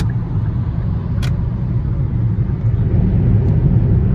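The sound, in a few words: road traffic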